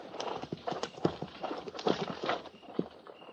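Horses led out in a 1950s Fort Laramie cavalry radio drama, hooves clip-clopping in an uneven walking rhythm of sharp knocks, close and fairly loud, with shuffling movement between the steps.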